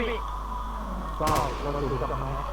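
A nail gun fires a single sharp shot partway through, standing out over a steady background hum while people talk nearby.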